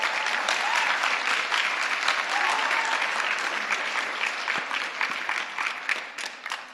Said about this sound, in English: So I would give him a round of applause if you could.